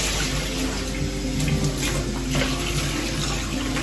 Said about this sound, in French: je rince abondamment. Moi, généralement, je rince toujours un peu à l'eau tiède